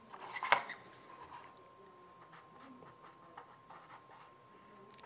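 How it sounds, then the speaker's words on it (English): A pencil draws a straight line along a printed triangle template during aileron layout for a Bearhawk experimental airplane build. A light tap comes first, then faint, scratchy strokes in a quiet workshop. "I can just draw a nice straight line"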